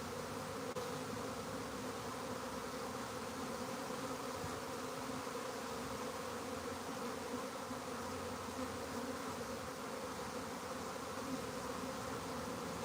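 A dense honeybee swarm buzzes in a steady, unbroken drone that fills the air, loud and close, with no voices.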